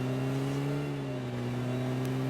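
A car drives in the video game PUBG Mobile, with a steady, droning, humming engine tone held throughout, close and continuous, with no talking.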